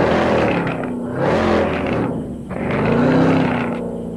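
A roaring car engine in Drive Zone Online swells and fades in three long, loud waves, a deep droning rumble with shifting pitch as the car accelerates and eases off, heard alone without talk.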